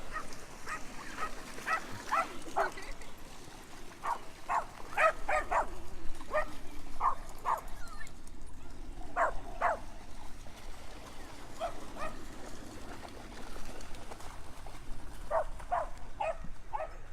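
Dogs barking at a dog spot in Orlando, a series of short yips and barks in scattered bursts, moderately distant, over steady outdoor background noise like running water.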